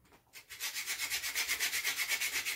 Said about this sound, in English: So I have nutmeg here, so I'm just gonna go ahead and grate some of my nutmeg.